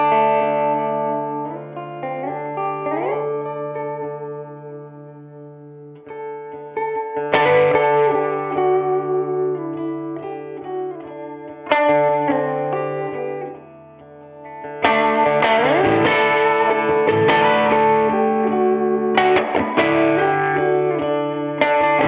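1961 Fender Stratocaster played through a Fender Twin amplifier and a 1961 brown Fender Reverb unit, bright chords and lead runs drenched in spring reverb, loud and close throughout, no talking.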